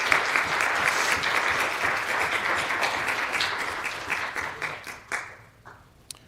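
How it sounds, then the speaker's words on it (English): A room of people applauds scouts at a troop court of honor, loud sustained clapping close by that thins out and fades into a few scattered claps. "How about a round of applause for some great work?"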